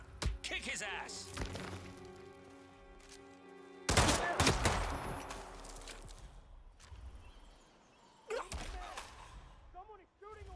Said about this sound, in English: Someone is shooting a weapon!